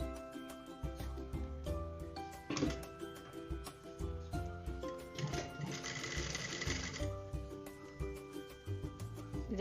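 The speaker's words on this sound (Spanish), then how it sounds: "Ya cosemos los costados según el margen de costura que se haya asignado." A sewing machine stitching the side seams of a basic skirt, running close with a steady mechanical whirr and rapid needle clatter that changes pace as the fabric is guided.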